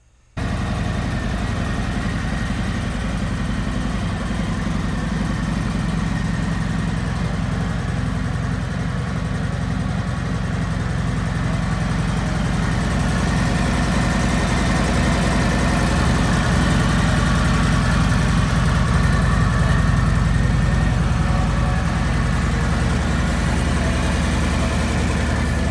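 A Harley-Davidson Road Glide motorcycle engine idling nearby, a loud, steady low rumble that holds unbroken for the whole stretch, swelling slightly toward the end.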